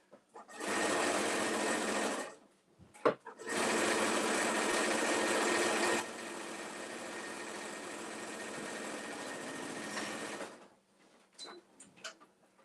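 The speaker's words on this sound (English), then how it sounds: "you always go back stitch over that zipper a couple of times" A sewing machine back-stitches over a zipper on a patchwork cosmetic bag, running in two loud steady bursts and then a quieter longer run, with brief pauses and clicks between.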